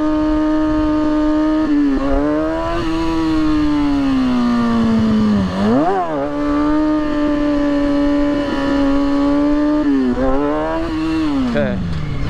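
A motorcycle being ridden, with the rider working the clutch and brake: a loud, continuous close engine drone whose pitch sags and swells in brief revving dips around a few gear changes.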